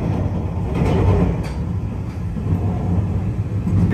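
A Shiosai limited express train rumbles steadily along single-track rails of the Sobu Main Line past Enokido Station, a loud continuous roar with faint clacks mixed in and no talking.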